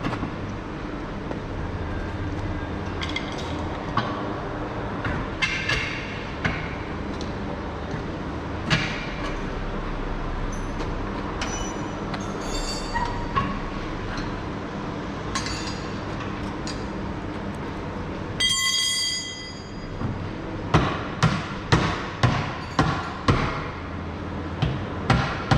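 Pickle fork driven with hammer blows to split a ball joint on a Bora wagon's front suspension: steady metallic strikes through a continuous mechanical background, ending in a run of sharp, evenly spaced bangs close by.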